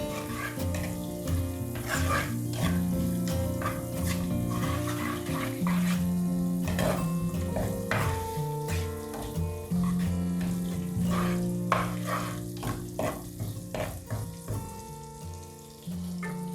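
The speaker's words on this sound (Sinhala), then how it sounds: "ඒත් එකම කරපිංචා දාගෙන මේක පොඩි වෙලා පොඩ්ඩක් ෆ්‍රයි කරගන්නවා" Curry leaves fry in a pan for eggplant moju, a steady close sizzle with occasional stirring clatter throughout.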